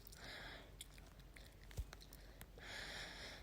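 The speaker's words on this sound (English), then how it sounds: "I got like the worst sniffle" A person sniffles with a cold, a few faint, close nasal sniffs at the start and end, with small scattered mouth and handling noises between.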